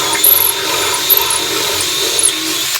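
A steady, loud grinding rasp of a drill bit reaming 3/16-inch holes in wood, running continuously and close with a harsh high-pitched edge and faint squeaks, no voices.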